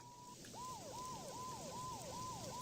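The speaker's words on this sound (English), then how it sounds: "Mona must have heard the sirens too." Police sirens in a video game wail in a repeating falling pattern, one steady tone and then several quick sweeps, fairly faint over a soft noise bed with no talk.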